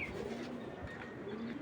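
Racing pigeon cooing softly in a loft, a low steady murmur of coos running throughout the short stretch with no talk.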